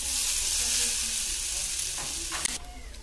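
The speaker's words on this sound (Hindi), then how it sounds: "इसे मैं अच्छी तरह मिलाकर 4 से 5 मिनट अच्छी तरह इसे फ्राई कर लूंगी।" Chow mein sizzles and fries in a pan on the stove, a steady close hiss with a few brief scraping stir sounds near the end.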